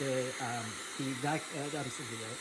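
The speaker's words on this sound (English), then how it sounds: "the hair dryer being on." A Dyson Supersonic hair dryer runs with a steady high whooshing hiss while a person keeps talking over it.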